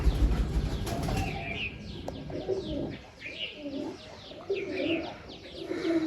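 Two released pigeons, one a water type and one a dry type, burst into flight with rapid wing flaps and scattered coos and chirps from nearby birds, steady outdoor background throughout.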